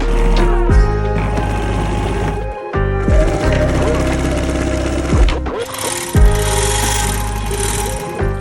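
A sewing machine stitching military gear and clothing runs loud and steady in mechanical bursts with short pauses near 2.7 and 6 seconds, and voices talk under it.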